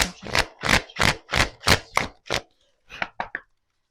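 A deck of tarot cards is cut and shuffled by hand, a run of seven crisp, evenly spaced slaps and flicks followed by a short pause and three quicker, softer snaps, all close and alone.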